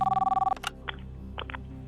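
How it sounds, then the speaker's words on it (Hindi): Telephone ringing during a phone-a-friend call on the Kaun Banega Crorepati quiz show: a quick rapid burst of electronic ring pulses, then a few faint clicks and taps as the line connects. "ख्याति शर्मा को फोन लगाया जाए"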